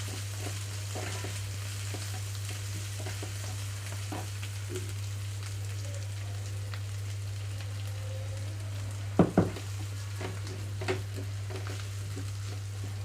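Bitter gourd pieces fry with chilli powder in a pan over a low flame, giving a steady, close sizzle with a low hum underneath and a couple of sharp stirring clatters near the end.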